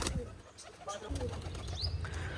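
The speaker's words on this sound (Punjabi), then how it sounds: "ਕਾਲਾ ਚੀਨਾ ਤੇ ਬਹੁਤ ਚੰਗਾ ਕਬੂਤਰ ਆ" Pigeons, including a black Chinese pigeon, give soft coos with brief wing flutters, close by and moderately loud, alongside a voice speaking throughout.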